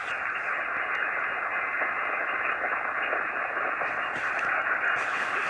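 Amateur HF radio receiving a strong distant station, heard as a continuous band of steady static and hiss with faint modulation throughout, no clear voice breaking through.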